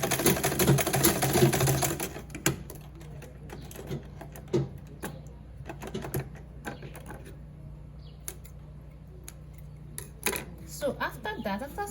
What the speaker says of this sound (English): Then for the elastic, I'll do the same thing, fold it up and sew it down with ½ an inch.